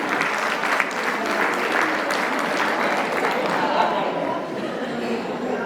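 Steady audience applause at a Manas Siddhi religious gathering, a dense wash of many hands clapping continuously at moderate loudness, tapering slightly near the end with faint crowd murmur underneath.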